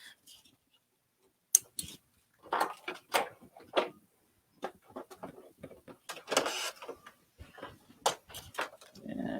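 A Pfaff serger sewing and trimming threads, its motor running in short, uneven bursts with pauses between them, close up, with no talking over it.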